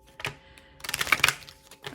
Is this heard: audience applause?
no